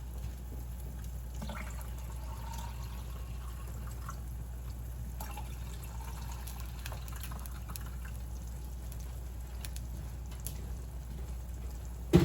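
Water is poured into a drink to dilute it, a faint, trickling liquid sound close by in a quiet room, with no talk.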